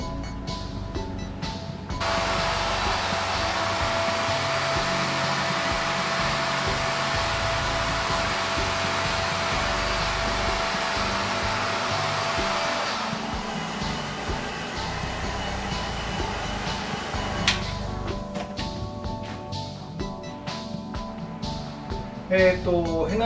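A hair dryer blows steadily on permed bob-length hair treated with henna gel, a loud continuous airy roar that runs close to the mic for about ten seconds, then shifts in pitch and level with faint voices underneath.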